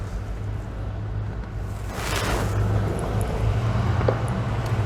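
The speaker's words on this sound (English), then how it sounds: "Stock exhaust, no crazy aftermarket. Just what you'd expect a 93 anniversary Vette to sound like." A 1993 Chevrolet Corvette 40th Anniversary convertible runs on its stock exhaust, a steady low rumble with a brief swell of revs midway, heard up close with some wind noise.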